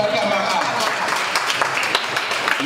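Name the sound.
audience applause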